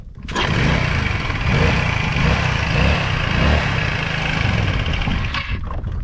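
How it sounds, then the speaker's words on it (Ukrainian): A Chinese 125cc scooter engine catches after a brief start and settles into a steady, loud, buzzing idle close by, running continuously before cutting off near the end. "Дивіться, як заводиться, як вертає лапка"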